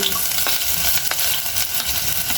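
Onion and garlic fry in hot oil with a loud, dense, continuous crackling sizzle and a few faint scrapes of stirring, close up and with no voices.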